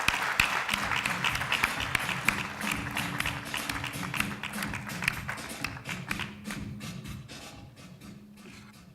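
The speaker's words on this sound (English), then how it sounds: "A big round of applause to my Ibiza friend." Audience applause at an innovation hub presentation in Dar es Salaam, a dense, steady wash of clapping from a crowd that runs the full length and slowly thins and softens toward the end.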